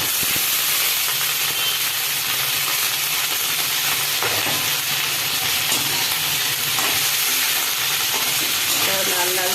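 Capsicum and beans frying in a pan for mixed fried rice, a steady broadband sizzle and hiss with occasional stirring scrapes, close and continuous throughout.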